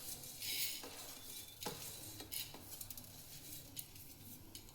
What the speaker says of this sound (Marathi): धने भाजायचे